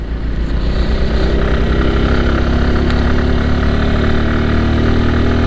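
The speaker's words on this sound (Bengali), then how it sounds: "ইঞ্জিনের ডাক দেখে মাথাটা একেবারে নষ্ট হয়ে যাচ্ছে।" A motorbike engine idling close by after a long, hard ride toward Sajek, a loud, steady low rumble with an even rapid pulse and no break.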